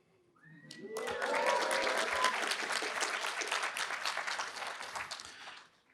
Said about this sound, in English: I thought that would be good to begin with an applause